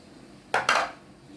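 Sliced zucchini and peppers drop into a clay tagine in two quick, close clattering bursts, sharp and brief against a quiet kitchen.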